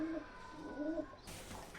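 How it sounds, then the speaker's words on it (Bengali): Teddy pigeons coo softly in low, rolling calls, a few repeated phrases close by against a quiet background with a brief shift in ambience near the end. "এই দাদার বাড়ির আরেক জোড়া টেডি পায়রা দেখুন"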